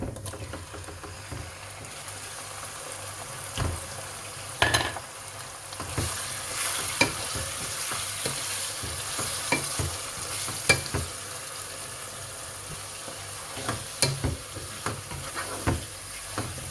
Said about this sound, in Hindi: अब हम चिकन को ब्राउन करेंगे